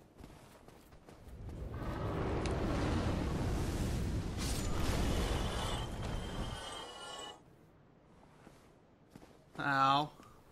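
A creature in the Dark Souls game breathes fire, heard as a loud, sustained roaring rush that swells for several seconds and then cuts off, followed by a brief sharp cry.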